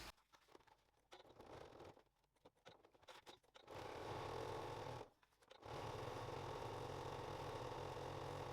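A sewing machine runs steady stitching lines around all four sides of a strap for a weekend bag, starting with short stop-start bursts and then two long continuous runs split by a brief pause.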